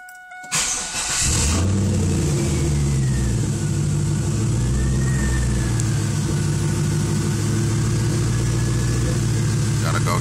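A 2000 Chevrolet Camaro Z28 engine cranks and fires up, then settles into a loud, steady rumbling idle with rising and falling revs, recorded close and alone.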